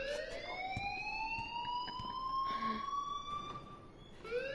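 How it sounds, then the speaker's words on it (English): Fire alarm blaring inside a school in the Life is Strange video game, a continuous electronic siren tone sweeping steadily upward, with a brief dip and restart near the end. "please turn off that alarm since that's your job"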